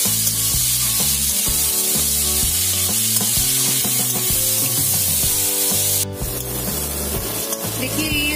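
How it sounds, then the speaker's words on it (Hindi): Chicken pieces frying in a pan until browned for chicken tikka masala, giving a steady, close sizzle and hiss throughout. Stirring runs beneath it, with a tonal, music-like backing playing the whole time. "ब्राउन होने तक हम लोगों को फ्राई करना है"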